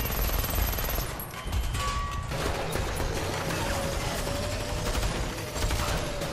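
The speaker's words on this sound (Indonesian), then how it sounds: "Aksi tembak-menembak antara pihak polisi dan anak buah Mr. Zhang pun terjadi." Gunfire from a film shootout between police and gang members crackles in rapid bursts over a dense, noisy backdrop of clatter and impacts.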